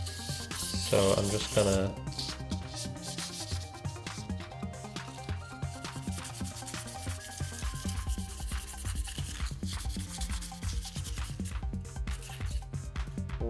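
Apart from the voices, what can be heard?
lightly sanding a synth panel with fine sandpaper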